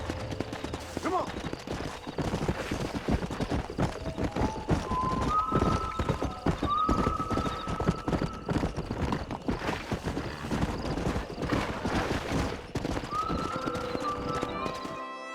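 A stallion in the Western video game Red Dead Redemption clip-clops steadily throughout, with whinnies and neighs rising over the hoofbeats, all set against game music and ambience.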